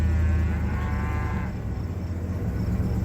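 A single drawn-out moo from a cow, with calves and mature cows out on wet marshland pasture, sounds clearly and fairly close before fading into quiet outdoor ambience.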